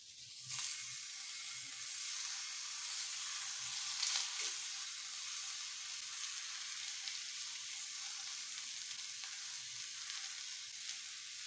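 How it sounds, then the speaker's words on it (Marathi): Chopped capsicum, onion and tomato sautéing in a pan with a little oil for a bread sandwich filling, a soft, even hiss of frying that runs quietly throughout with an occasional faint stir. "इथे मी शिमला मिरची चिरून घेतलेली आहे कांदा आणि टोमॅटो ते परतून घेते थोडंसं"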